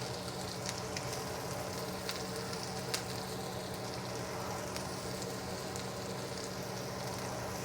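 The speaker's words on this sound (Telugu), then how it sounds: "దీంట్లో పచ్చిమిరపకాయలు వేసేసారు అనుకో" Steady oil sizzle and crackle of green chillies frying in a pan for butter garlic shrimp, a continuous bright hiss with small pops throughout and no voices.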